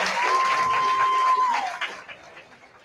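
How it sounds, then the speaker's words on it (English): An audience at a bluegrass festival breaks into dense applause with some cheering. It fades over the last second, and a sustained tone runs beneath the first part. "deserves a great big round of applause"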